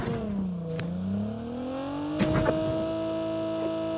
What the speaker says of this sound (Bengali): একজন মোটরসাইকেল নিয়ে আসছে